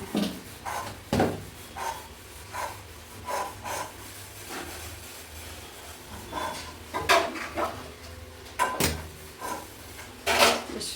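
A new kitchen cabinet with glass being opened and handled: repeated short wooden knocks, scrapes and rubbing clunks at irregular intervals, some sharp and close, with quiet gaps between.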